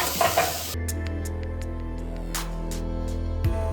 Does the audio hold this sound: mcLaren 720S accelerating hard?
no